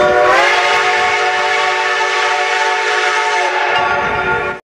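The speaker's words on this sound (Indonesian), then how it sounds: "di sini ada kereta api" A train rumbles past close by, its loud horn sounding steadily with layered tones for several seconds before cutting off abruptly.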